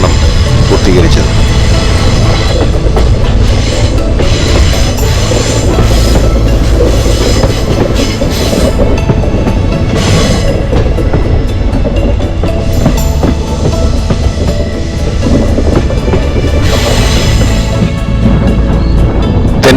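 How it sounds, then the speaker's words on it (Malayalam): A train on the Punalur–Thenkasi railway line runs on past Thenmala station, its loud, continuous rumble and wheel clatter heard close by with occasional squeals. "തെന്മല സ്റ്റേഷൻ പിന്നിട്ട് ട്രെയിൻ അങ്ങനെ മുന്നോട്ട് പോവുകയാണ്"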